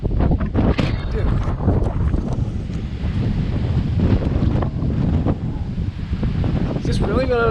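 Strong gusting wind of about 32 mph buffets the microphone on open water beside a kayak, a steady loud broadband roar with choppy water splashes underneath and a brief voice near the end.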